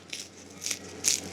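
Hot, freshly baked bolillo bread rolls with a crunchy crust crackle as they are squeezed, three short crisp crunches close to the microphone in a quiet room.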